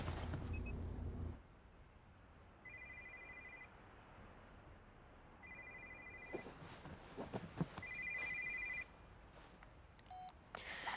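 A telephone rings in a quiet indoor room, with three electronic trilling bursts spaced a few seconds apart, faint and clear with no talk over them.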